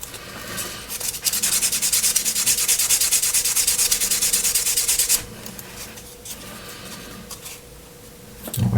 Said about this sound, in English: this is a very worn sanding pad.